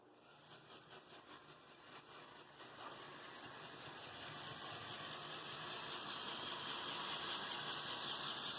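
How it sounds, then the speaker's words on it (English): A Bachmann GP50 and a Life-Like GP38-2, both high-nose model locomotives with pancake motors wired together, run along track with a faint whirring hum and soft rhythmic clicking that grows steadily louder as they approach. "a Bachmann GP50 pancake motor high nose and a Life-Like GP38-2 pancake motor high nose wired together"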